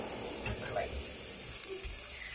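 Mushrooms and onions sauté in a pan for wild rice and mushroom soup, a soft steady sizzle with light stirring, fairly faint.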